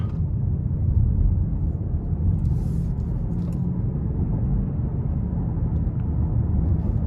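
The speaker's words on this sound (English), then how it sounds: "So you really don't have to give it a lot of throttle to accelerate, because this is a 5-liter V8" A 2021 Genesis G90 AWD with its 5.0-litre V8 accelerating in sport mode, heard from inside the cabin as a steady, loud low rumble and drone that holds fairly even throughout, with no talking.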